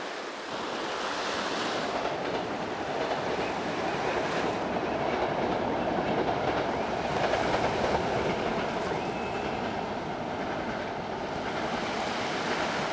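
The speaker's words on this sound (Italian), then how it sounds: "Bello il treno in riva al mare, vero cara?" A train runs along the seaside railway at Cervo on the Riviera dei Fiori in Italy, a steady, moderately loud rumble blended with surf that holds evenly throughout, with no voices.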